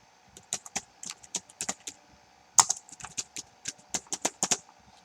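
Keys clatter on a computer keyboard as text is typed, in short irregular bursts of close, crisp keystrokes with brief pauses between them. One stroke lands a little harder than the rest, and no one speaks.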